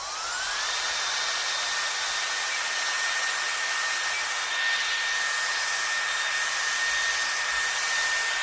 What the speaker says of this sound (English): That's the hairdryer in reverse, and it's blowing air out the back of the hairdryer